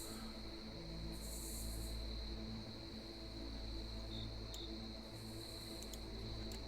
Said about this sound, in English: See how loud those crickets are?